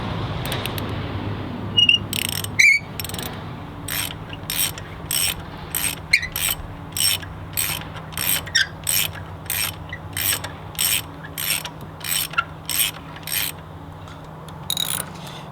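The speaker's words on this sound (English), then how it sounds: "Now while I'm here, I'm going to take a look at my plugs. I've got a 5/8 spark plug wrench." A ratchet with a 5/8 spark plug socket works on a spark plug in a 3.6L Pentastar engine, giving a close, regular series of sharp clicking bursts as the handle swings back and forth.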